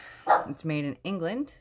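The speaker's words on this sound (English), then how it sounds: "Sorry about my dog." A dog barks at close range, two or three sharp barks indoors in quick succession, mixed with a person talking.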